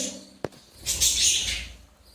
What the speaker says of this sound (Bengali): এতে এই খোপটা আমার দুখানা ফিমেল, একটা মেল পাখি দেওয়া আছে